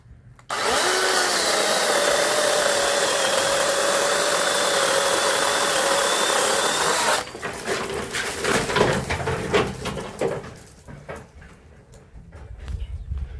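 A Makita DUC407 18V cordless chainsaw with a brand-new chain cuts through a thick 4 to 5 inch branch, a loud steady electric whine for about seven seconds, then rustling and cracking of wood and leaves as the cut finishes.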